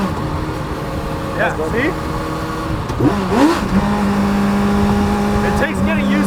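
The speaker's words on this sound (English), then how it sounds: "Give it a rev match downshift." A 2025 Campagna T-Rex RR's engine blips upward in a quick rev-matched downshift, with rising and falling tones over a steady mechanical drone and wind noise heard from inside the vehicle. Voices talk over it.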